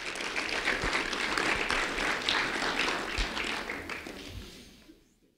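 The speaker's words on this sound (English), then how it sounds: "a round of applause for Kane Palmer" Audience applause for kindergarten student Kane Palmer at a sheriff's office recognition event, a steady wash of clapping with a few sharp thumps that fades out near the end.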